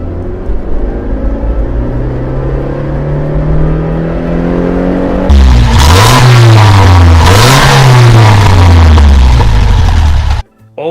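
A classic car engine idles with a steady low rumble, then revs hard twice in loud rising-and-falling surges before cutting off abruptly.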